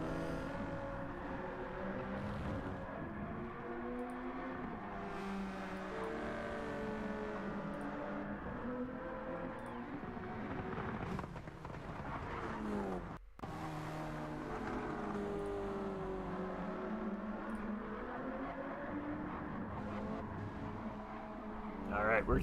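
GT3 race cars, including a Ford GT, lap Spa in a racing video game, engines droning steadily for the whole stretch with shifting revs and a brief cut partway through.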